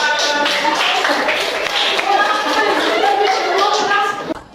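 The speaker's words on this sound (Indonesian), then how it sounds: "Oke, tepuk tangan." Children clap their hands in a classroom, a continuous run of claps blended with young voices chanting loudly throughout. The sound cuts off abruptly at the end.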